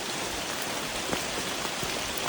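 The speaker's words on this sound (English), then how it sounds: "The rain is very cleansing." Steady rain falls during a multi-day walk on the Le Puy route of the Camino, Via Podiensis, a dense even hiss with scattered louder drop hits, continuous and close.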